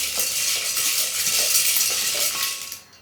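Chopped coriander frying in a pan for an okra dish, stirred continuously: a close, steady hiss of sizzling oil broken by soft scraping strokes of a spoon, with no voices.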